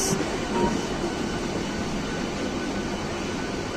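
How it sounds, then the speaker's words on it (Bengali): Loud, steady rumble of the Howrah–Gaya Vande Bharat Express rolling into a station close by, a constant broadband roar with faint metallic wheel noise; no speech. "ওই ট্রেনটা যে ঢুকছে ওটা হচ্ছে হাওড়া থেকে গয়া যাওয়ার বন্দে ভারত এক্সপ্রেস"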